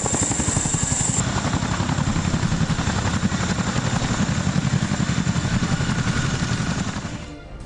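A military helicopter with the Indian Army drones on, its rotor chop steady, loud and close, running alone without voices before fading slightly at the very end.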